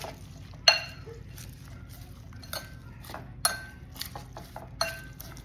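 A spoon stirs Ilocano-style fish kilawin made with snapper and a little sugar in a bowl, giving quiet, scattered clinks and scrapes against the dish with a few sharper taps and no talking.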